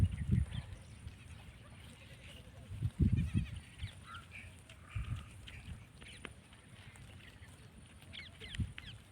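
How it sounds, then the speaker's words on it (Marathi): Goats grazing in open farmland, with a few short, low bleats and animal calls scattered across the scene over faint outdoor background noise. "आणि इकडे शेळ्या चरत आहेत"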